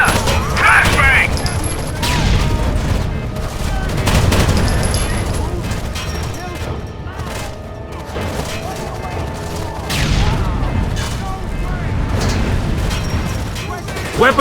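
Heavy gunfire in the tactical shooter Rainbow Six Vegas, set at the Nevada dam: dense, continuous bursts of shots and booms rumble through the whole stretch, mixed under shouted squad voice lines.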